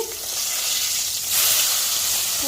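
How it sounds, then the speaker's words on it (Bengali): Small puti fish frying in oil give a loud, dense sizzle that flares up brighter partway through as the pieces are turned over in the pan. "মাছগুলোর এক পাশ হয়ে গেছে আমি উল্টে দিচ্ছি"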